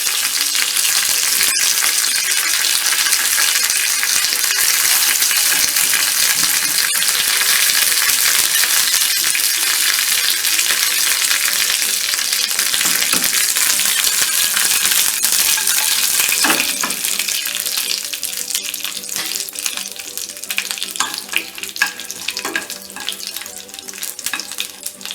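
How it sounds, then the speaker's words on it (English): Curry leaves tempering in hot oil for a peanut chutney, a loud continuous sizzle and crackle that gradually settles into softer spitting pops as the frying calms. "Let it fry."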